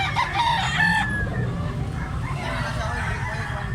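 Young gamecock stag of an open-air bloodline crows once, loud and close in the first second, followed by outdoor farmyard noise while someone talks.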